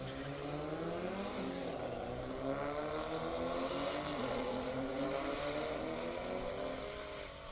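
An SRT4 Neon drag car makes its run down an airport half-mile drag strip, a sustained engine drone heard from a distance, its pitch sweeping up and down across several seconds and fading slightly at the end.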